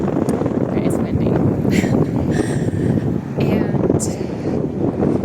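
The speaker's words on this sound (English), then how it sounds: "Okay, it's windy." Gusty wind buffeting a microphone outdoors at a tennis tournament, a loud continuous rough low roar with surging bursts, a voice speaking briefly over it.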